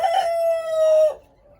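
A single tiger-breed chicken call on a farm, one loud close drawn-out vocal note lasting about a second before cutting off, with no other sound following.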